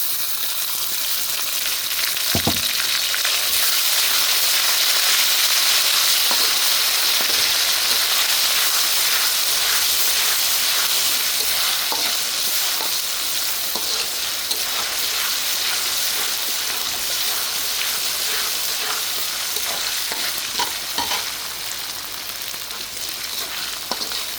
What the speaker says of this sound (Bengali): পেঁয়াজটা ভাজা নিয়ে হালকা একটু ব্রাউন কালার হলে আমি আদা বাটাটা দিয়ে দেবো